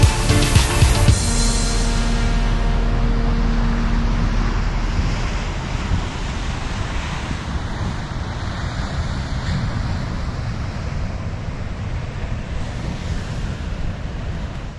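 Ocean surf rolls onto a beach near a lighthouse at Kingscliff, a broad continuous roar of waves mixed with gusting wind buffeting the microphone, loud and close throughout, with no talking.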